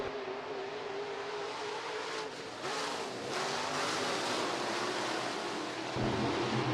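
A pack of USRA B-Modified race cars roars off at the green flag of a heat race at Rapid Speedway, a dense wash of engine noise surging louder, heard from a distance with no talking.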